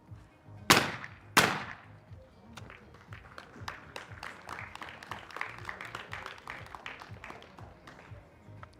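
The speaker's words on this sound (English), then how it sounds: "Now she's getting applause for every single hit in the doubles" Two sharp shotgun blasts from a women's skeet final ring out close and loud, then spectators break into scattered applause that builds into steady clapping.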